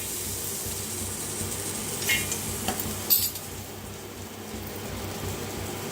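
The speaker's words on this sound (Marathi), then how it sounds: "आता गॅसवर ठेवलाय तवा, खोबरं भाजून घेऊया आपण।" Grated coconut being dry-roasted on a flat pan (tawa) over a gas stove: a soft, faint hiss is broken by a few scraping stirs and clinks of a spatula against the pan, with no talking.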